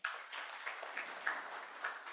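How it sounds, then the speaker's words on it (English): Quiet applause from a conference audience at an adolescent health stakeholders' dialogue, a steady soft patter of clapping heard from a distance with no voices over it. "Please give her a round of applause"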